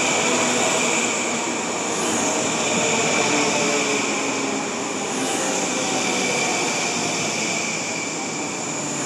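Steady loud rumble and rolling roar of a train moving through Mineola station, with a constant broadband rush and faint high hiss, no clear pauses.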